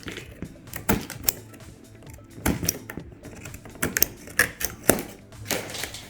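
Cutting and tearing open the cardboard packaging of a TEKA EWH 80 VE D 80-litre water heater, heard as a series of close, sharp scraping and tapping sounds. The clusters arrive in irregular bursts with short pauses between them.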